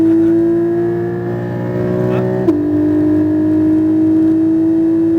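A Porsche Cayman GT4 engine on a race track drones steadily and loud throughout, its tone dipping briefly mid-clip before settling into a sustained, even pull.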